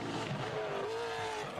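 Trophy truck powered by a Joe Gibbs engine tearing through the Baja 500 qualifier on dirt, giving off a steady, loud engine roar with a rising whine, heard in the distance under the open-air race ambience.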